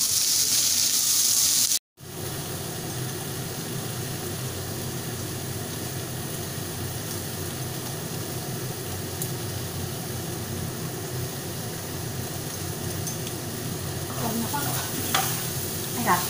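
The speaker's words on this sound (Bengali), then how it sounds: "তো দেখো চটপট চটপট করে যা ফাটছে না?" Mango pieces and ginger sizzle and crackle steadily in a hot frying pan for a Bengali mango chutney, a loud continuous frying hiss close up after a brief cut near the start.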